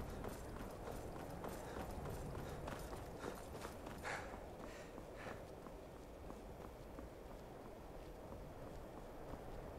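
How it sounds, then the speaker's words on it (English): Rhythmic clip-clop of horse hooves on hard ground in the video game Skyrim, a steady trotting beat over a low ambient hum, moderately close. "Hey, look, a horse."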